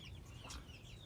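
Backyard chickens, including broody hens sitting on eggs, cluck softly in a coop, a low steady fowl murmur with a brief brighter call midway.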